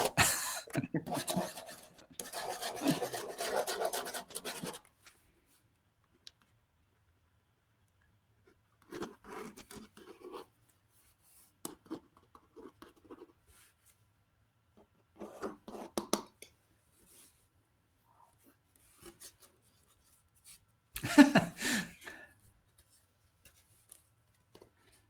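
Drawing on paper comes through as soft, intermittent scratching strokes in short bursts separated by quiet pauses, with a longer rustly stretch at the start.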